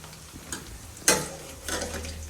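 Three to four tomatoes drop into a hot pan for tomato gojju, one sharp splatter followed by a soft sizzle and stirring, quiet and close with no talking.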